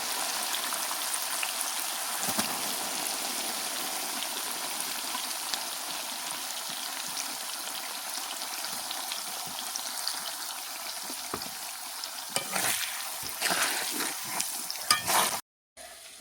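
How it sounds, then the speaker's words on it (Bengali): Onions frying in oil for chicken biryani give a continuous, moderately loud sizzle with scattered crackles and occasional scraping stirs toward the end, then a brief cut. "ভাজার তেলে আমি পেঁয়াজের বেরেস্তাটাকে"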